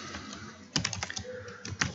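Fingers type on a computer keyboard with irregular clusters of light, close key clicks, a few sharper strikes standing out against faint background noise.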